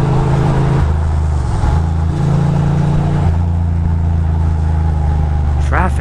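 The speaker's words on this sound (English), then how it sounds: "Traffic everywhere" Car engine rumbling loud and close while driving through Manhattan city traffic, with shifting engine tones and a brief high squeal near the end, with voices heard underneath.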